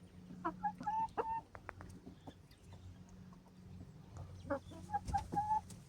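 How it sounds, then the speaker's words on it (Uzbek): Inside a henhouse, Korean broiler Todjon hens cluck close by in two bursts of rising, drawn-out calls separated by quieter low murmuring. "Issiq sovuqqa chidamli tovuqlar."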